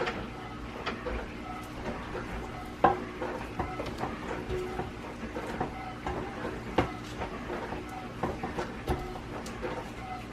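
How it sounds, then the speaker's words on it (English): A spatula scraping down the sides of a mixing bowl of whipped UFO cookie dough, soft repeated scraping and light tapping strokes at close range, fairly quiet throughout. "now I'm going to scrape down the sides of my bowl with my spatula"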